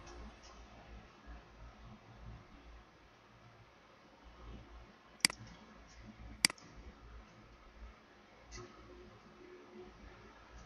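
A computer mouse clicking while launching the Minecraft launcher: two sharp, close clicks about a second apart against quiet room noise, with faint speech nearby.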